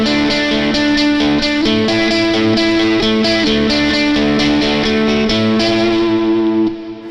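Electric guitar played through a Greer Lightspeed overdrive pedal with the pickup selector in the middle position blending neck and bridge, giving loud, driven strummed chords with a sustained, slightly gritty ring that cuts off at the end.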